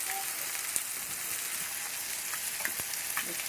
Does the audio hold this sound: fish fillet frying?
yes